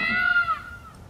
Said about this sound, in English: that's the sound of a peacock.